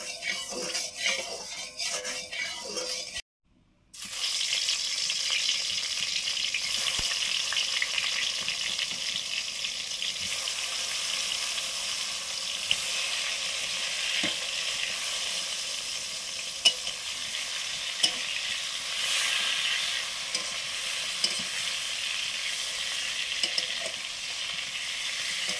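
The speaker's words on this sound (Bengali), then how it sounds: "বেগুন ভাজা করে নিচ্ছি এবারে" Brinjal slices rubbed with salt and turmeric frying in hot oil: a steady, close sizzling hiss that runs nearly the whole time, broken only by a brief silent gap early on.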